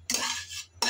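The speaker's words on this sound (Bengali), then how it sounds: "আমি প্রায় 4-5 মিনিটের মতন এভাবে নেড়ে চেড়ে মাছ ভালো করে ভেজে নিলাম" A metal spatula scrapes and clinks in a pan while fish fingers are stirred as they fry. There are two distinct close strokes, a longer one followed by a short one, with a low hum underneath.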